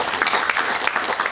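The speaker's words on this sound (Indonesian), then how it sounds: "Tepuk tangan ya." Children's audience clapping during a Balinese storytelling programme, a short burst of steady, fairly close applause with no voices over it.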